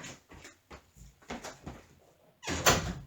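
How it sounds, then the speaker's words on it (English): An indoor door pulled shut, several soft shuffles and bumps ending in a louder close thud, near and fairly quiet. "just closing my door so I could turn on my portable AC here"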